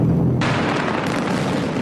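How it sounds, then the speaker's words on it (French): Cannon fire at a historical battle reenactment commemorating the landing beaches, heard as one loud, close, broadband boom that rolls on into a sustained rumble with no speech over it. "le bruit du canon, le feu qui déchire le ciel"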